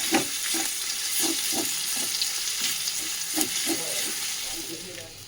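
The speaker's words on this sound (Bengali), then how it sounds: "এর মধ্যে একটু ফোড়ন দিয়ে দেবো" Hot spice tempering with crushed ginger and bay leaves sizzles as it is poured into freshly cooked khichuri, a steady loud crackling hiss with repeated stirring scrapes, close up and without speech.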